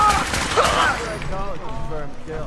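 Gunfire in the video game Fallout 4 bursts out in a dense, loud volley at the start, then fades under game voices and dialogue that carry on through the rest.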